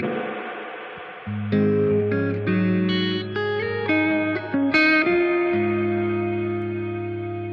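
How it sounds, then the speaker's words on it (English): Electric guitar played through a BOSS RV-500 reverb pedal: a soft strummed intro, then a run of sustained chords and single notes ringing out with long reverb tails, moderately loud and alone. "So this is just the reverb."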